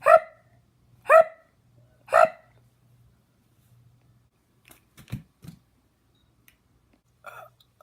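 Three loud, evenly spaced hiccups about a second apart in a cartoon about a baby with a bad case of hiccups, then a few faint, brief thumps and a short voiced sound.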